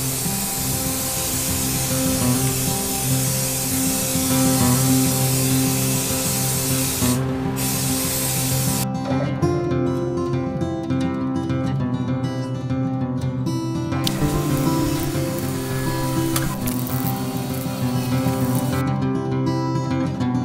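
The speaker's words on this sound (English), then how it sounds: "I'm gonna start out with this Rust-Oleum Clean Metal Primer." A Rust-Oleum Clean Metal Primer aerosol is sprayed onto a Suzuki TS185 motorcycle frame in long, loud continuous hissing bursts, with a few brief pauses between passes.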